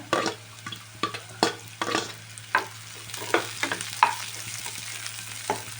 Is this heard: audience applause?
no